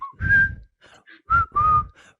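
A person whistles a few bright, clear phrases of the Colonel Bogey March, a famous military tune, in short separated bursts with brief gaps between them, close and fairly loud with no talking.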